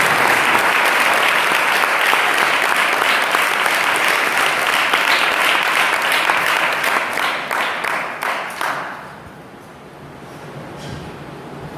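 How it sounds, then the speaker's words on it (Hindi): Loud applause from a church crowd at a Vacation Bible School inauguration, dense steady clapping that carries on for several seconds, then thins out into scattered claps and fades away near the end. "उन सबों के लिए हम एक बार जोरदार तालियां"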